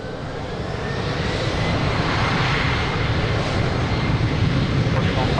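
An airplane taking off from runway 02 at Lisbon Airport: a loud, continuous engine roar that holds steady and builds slightly, with radio-style voices faintly mixed in.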